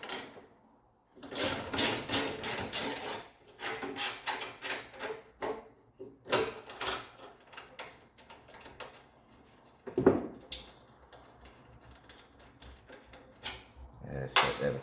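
A hand ratchet removes 10 mm and 13 mm bolts from a wrecked Jeep, with repeated clicking bursts and clanks of metal, while a person speaks between the bursts.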